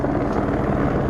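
Steady, loud rotor thrum of a helicopter hovering overhead in daylight, continuous for the whole short moment.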